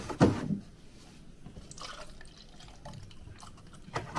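Milk is poured into a container with banana, starting as a brief close splash and gurgle and then settling into softer liquid trickling and drips at intervals.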